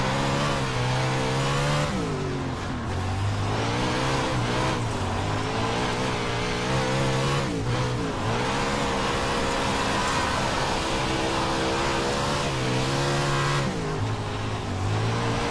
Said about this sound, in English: The 410 Winged Sprintcar.